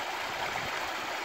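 Salmon stream on Cape Wrath, the River Kearvaig area, rushing water with a steady broadband hiss, close and continuous for a brief moment with no talk.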